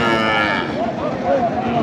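Sahiwal bull calves lowing at a cattle market in Nilphamari, a long drawn-out moo with wavering pitch over a busy, crowded background.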